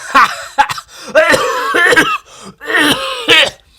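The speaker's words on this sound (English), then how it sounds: "so hard that I just started coughing." Several hard, harsh coughs in close bursts after hard laughing, loud and near, separated by brief gasping pauses.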